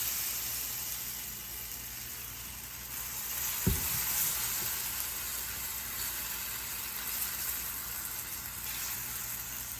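Oil sizzles and fries steadily beneath a palak paratha on a hot griddle, a continuous close hiss broken by one brief clunk partway through.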